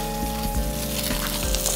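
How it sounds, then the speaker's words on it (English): Fresh cod sears in a hot pan, a loud close crackling sizzle with regular thumps and stirring or scraping noises throughout. "So next we're gonna add our fresh cod. Gonna sear it. Use a little sizzle, just what we're looking for."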